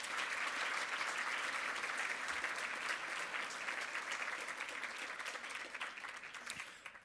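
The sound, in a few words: audience applause for alumni association officers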